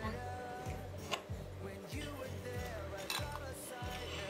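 Chopped walnuts and sugar stirred together in a bowl for a baklava filling, a steady rhythmic clatter of utensil against dish with clinks, close and continuous, no voices.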